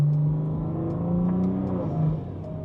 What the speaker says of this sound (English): the turbo sound on this, the turbo flutter is unreal